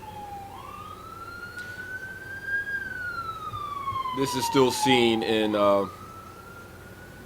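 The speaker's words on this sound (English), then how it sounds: "sorry about the ambulance" An ambulance siren passing along a major highway outside, a long rising and falling wail that swells to a loud, harmonic-rich peak before fading, with someone speaking briefly over it.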